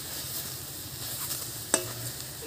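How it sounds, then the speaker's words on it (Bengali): Cooked fish being stirred in a pan until dry, with a low continuous sizzle and soft scraping, one sharp clink of a utensil partway through. "এবার আমি একটু কিন্তু ভালো করে নাড়াচাড়া দিয়ে নেবো"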